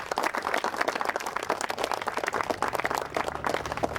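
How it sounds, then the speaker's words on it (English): A crowd claps steadily in a dense wash of applause at an outdoor ribbon cutting for the Oneida Rail Trail, loud and continuous for the full stretch. "give yourself a round of applause"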